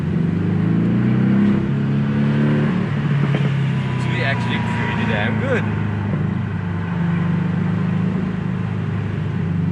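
Porsche 718 Boxster S 2.5-litre turbocharged flat-four with sports exhaust, a steady loud engine drone and rev under continuous in-car talk.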